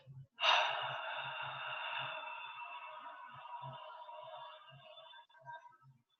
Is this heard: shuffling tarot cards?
no